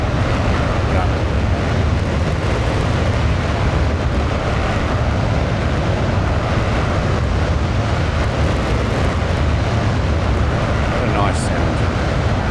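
An F-16 Fighting Falcon jet engine at full power with afterburner in Microsoft Flight Simulator, a loud, unbroken, heavy roar with deep rumble and broad hiss that holds steady throughout.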